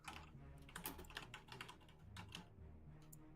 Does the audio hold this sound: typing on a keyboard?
yes